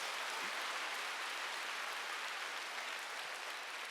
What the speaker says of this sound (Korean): 박수 세게 쳐봐요.